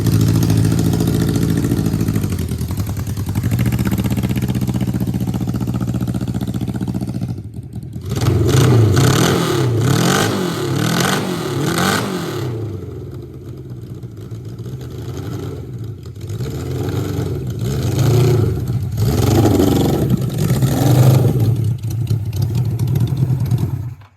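A 1978 Suzuki GS750 motorcycle, rebuilt as a budget cafe racer, revs loudly while being ridden, its engine note climbing and dropping through several throttle pulls and gear changes, recorded up close with no talking.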